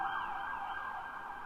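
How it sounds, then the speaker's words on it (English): A wailing emergency vehicle siren sounds steadily at moderate distance in Brooklyn, its pitch sweeping up and down with faint city traffic noise beneath. "Lots of sirens."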